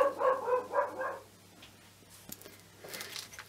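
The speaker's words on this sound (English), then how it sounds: "I thought we wouldn't get a whole video done without a woof from Nelson." A dog barks three or four times in quick succession, fairly close and loud, then falls quiet, leaving only faint rustling and small indoor sounds.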